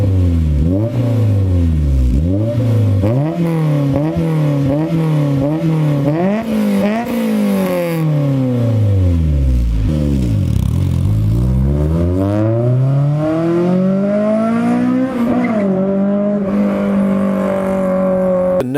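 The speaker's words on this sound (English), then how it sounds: "the HKS high power racing exhaust, which should sound a little something like this." A Honda S2000 fitted with an HKS high power racing exhaust revs hard in a run of quick, rhythmic blips, then climbs through long sweeping revs, loud and close with no talking.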